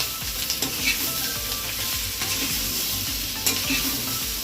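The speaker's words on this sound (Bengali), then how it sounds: "এবার এই আলুটা দিয়ে এটা ভাজতে চাই দেখতে" Small parboiled potatoes frying in oil with onion and green chili, a loud, dense, continuous sizzle with occasional light spatula scrapes, close and steady with no talk.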